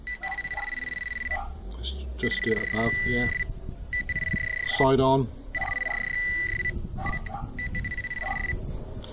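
A metal detector pinpointer gives a steady high electronic beep in bursts, faster as it nears metal, stopping and starting, while people talk briefly nearby.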